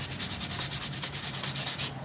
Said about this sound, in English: So outside, sanding wood.